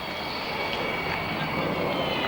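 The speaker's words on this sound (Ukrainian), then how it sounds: "курсанти з моделями літаків відпрацьовують вкотре польотні завдання" A model airplane engine drones in a steady, loud buzz during cadet flight-training exercises, continuous and unbroken throughout.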